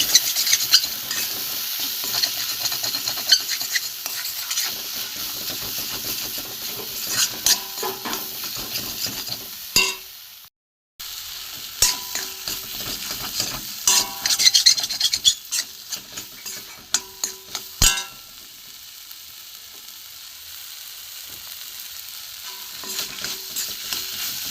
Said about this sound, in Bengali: এটা ভালো করে আমি একটু ভেজে নেবো মশলা দিয়ে।